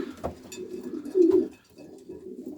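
Homing pigeons coo softly in a loft, a few low rounded calls repeating close by while a mother pigeon feeds her single squab; no talking.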